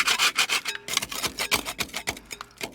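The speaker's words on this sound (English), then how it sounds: "let's start chipping some of this creosote" Rapid rough scraping and rasping as creosote is chipped off the top chamber walls of an outdoor wood boiler, a steady close-up series of short gritty strokes with no talking.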